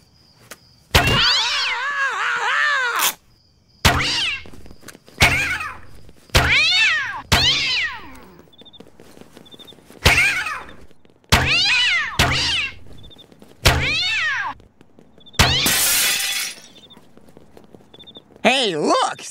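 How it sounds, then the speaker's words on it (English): Cartoon cats fired one after another from a cat launcher give a rapid string of loud, close meows and yowls, each a short separate burst. "prepare to meet your maker at the hands of my cat launcher"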